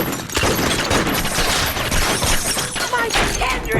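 Dense gunfire in the Gangster Vegas video game, a loud continuous barrage of shots and impacts with voices shouting over the noise.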